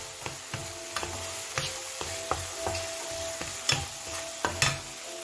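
A spoon stirs a spice masala of garam masala, turmeric, crushed chili and salt in a pan for turnip kofta, giving rhythmic scraping strokes over a soft, steady sizzle, with no one speaking.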